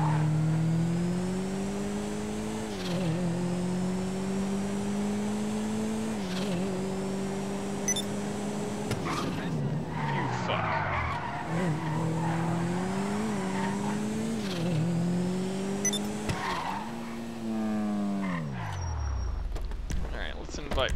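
Car in GTA V driving with a wavering engine drone that rises and falls as it revs and shifts, occasional tire squeals and skids, the engine cutting down near the end, with a person talking over it.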